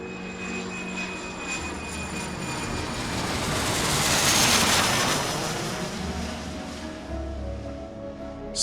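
A Southwest Airlines jet airliner on its takeoff run out of a New York airport, a broad steady engine roar that swells toward the middle and then eases a little, with no voices over it.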